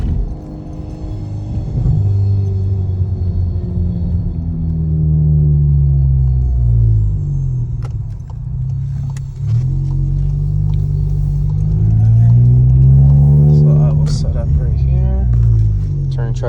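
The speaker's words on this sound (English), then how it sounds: "see if I can get a little launch control, do a full pull for you guys" A sleeper wagon fitted with APR ignition coils makes a launch-control full-throttle pull, its loud engine rumbling and revving in long rising sweeps through the gears, with talk over parts of the run.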